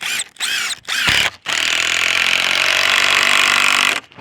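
Cordless impact driver sinking locking screws into pre-drilled timber, with short bursts of whirring and hammering followed by one long, loud, steady run and then a sudden stop.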